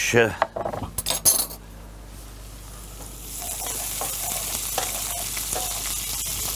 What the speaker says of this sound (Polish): się smaży błyskawicznie